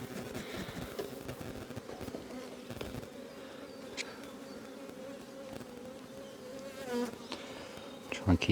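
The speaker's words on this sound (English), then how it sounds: "Just waiting for one bee to move out the way." Honey bees buzz around an open hive during a hive inspection, a steady close drone of many wings with individual bees flitting nearer at moments, and a brief clatter near the end.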